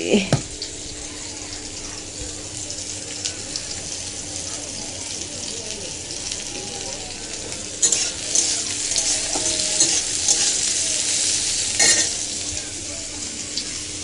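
Fish pieces frying in oil in a home kitchen pan, turned with a metal spatula; a continuous hissing sizzle runs throughout, with louder bursts and scrapes as pieces are flipped, and a voice talks faintly at times.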